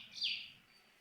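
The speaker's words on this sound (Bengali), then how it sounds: "পাখির আরও শব্দ কিচিরমিচির" On a foggy winter morning outdoors, a single bird gives one short, high chirp that is faint and brief against a quiet background.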